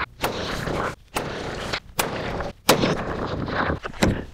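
6.5 Creedmoor rifle shots fired outdoors at a shooting range, a series of loud, sharp reports spaced roughly a second apart, each with a short echoing tail.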